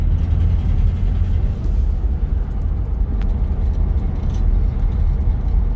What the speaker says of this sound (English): We're gonna be cruising around the block in her.